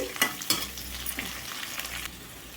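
Onions with curry leaves frying in a pan for Andhra-style cucumber and drumstick sambar, sizzling steadily while a utensil stirs them with a few sharp scraping clicks, close and moderately loud, with no talk.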